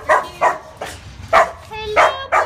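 A puppy at a county animal shelter barks in six short, loud, close yips spaced about half a second apart, with no other sound between them.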